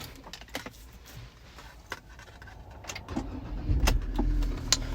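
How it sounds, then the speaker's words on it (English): A 2018 Ford Ranger 3.2 TDCI Wildtrak diesel is started after a few clicks and handling noises, catching quickly and settling into a steady, close engine rumble over the last couple of seconds. "Fires into action straight away, no problems at all."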